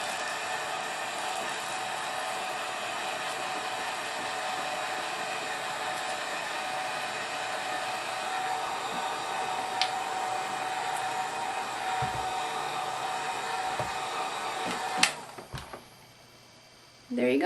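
A heat gun blows a steady, loud, hissing roar for about fifteen seconds as shrink wrap is shrunk onto a bar of soap, then cuts off abruptly, leaving near silence with a few light handling knocks.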